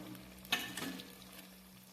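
Beans, carrots, potatoes, peas and cauliflower stirred in a pan of hot oil, a single scraping clatter of the spoon over a faint, steady sizzle, fairly quiet and close.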